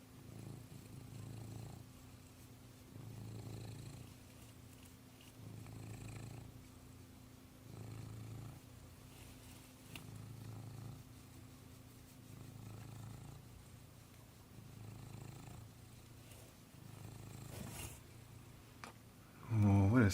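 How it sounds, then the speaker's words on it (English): A kitten purrs steadily and close up, a soft rhythmic rumble pulsing in regular cycles for about twenty seconds, ending in a brief louder rustle. "Can we get you to do some of your famous purring for us?"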